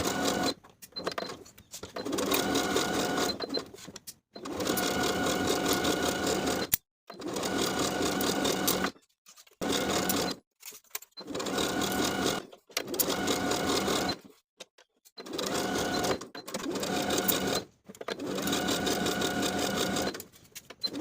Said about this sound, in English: Sew each of these seams with a 3/8 inch seam allowance.